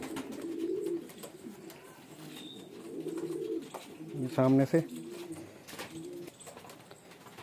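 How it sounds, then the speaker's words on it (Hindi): Male fancy pigeons coo in soft, repeated rolling phrases close by, with one louder burst midway, while someone talks over the birds. "लीजिए दोस्तों, ये एक और कबूतर है। ये भी नर है।"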